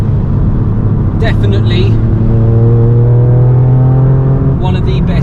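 A Litchfield GR Yaris with Akrapovič exhaust and Nitron suspension driving on the road, a loud steady engine drone rising gradually in pitch, with someone speaking briefly over it.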